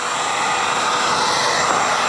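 Heat gun running at full blast to dry freshly repainted thrifted home decor, a loud, steady roaring hiss that holds constant throughout the short stretch.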